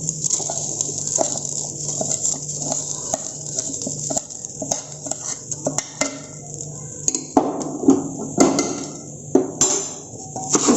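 Soaked biryani rice frying in a pressure cooker for a paneer biryani, a steady sizzle with repeated scraping and clinking of a ladle stirring against the metal, growing louder toward the end, no talk.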